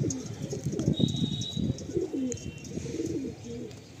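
A pair of Madrasi pigeons, male and female, coo steadily in low rolling phrases at close range, with faint chirps above and no voices.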